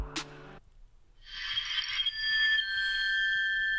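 A Vertu Aster Android smartphone plays a ringtone preview: after a short tap, bright bell-like chiming tones ring out and sustain with sparkling, shimmering notes, clear and fairly quiet with no talking.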